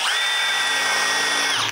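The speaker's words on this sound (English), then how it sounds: "And now I got a 3/16 bit in there. I'm gonna go ahead and do a pilot hole." A power drill with a 3/16 bit boring a pilot hole during dethatcher assembly, one steady high whine lasting under two seconds, loud and close, stopping abruptly.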